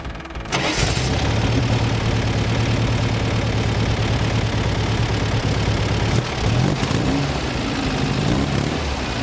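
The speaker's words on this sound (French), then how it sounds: "Ça vous dit d'écouter le moteur" A 1600 cc air-cooled Volkswagen Beetle engine starts up and settles into a steady, loud idle with a low rumbling drone, revving briefly near the end.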